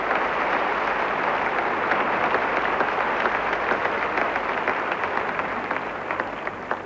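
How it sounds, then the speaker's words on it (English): Audience applause for Torvill and Dean after their compulsory ice dance at the 1984 World Championships, a loud sustained wash of clapping across a large arena, steady throughout and easing slightly at the end. "Nobody gets applause like that at the end of a compulsory"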